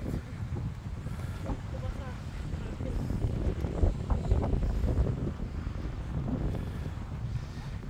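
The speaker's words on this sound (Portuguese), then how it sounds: "Olha o vento forte aí." Strong wind gusts at the Lagoa da Conceição lagoon in Florianópolis, a steady roar buffeting the microphone throughout, with a voice talking underneath.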